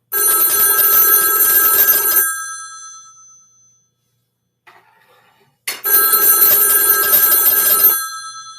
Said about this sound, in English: So we're going to send a ring cycle as though we were getting a call.